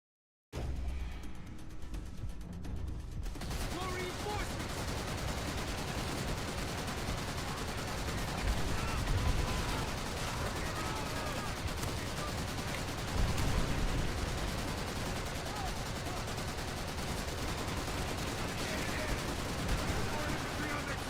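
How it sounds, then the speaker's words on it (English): In Call of Duty: World at War, an AA gun fires at infantry in a continuous, loud stream of rapid heavy bursts that layer with other battlefield gunfire and last the whole stretch. "use the AA gun as a anti-infantry weapon"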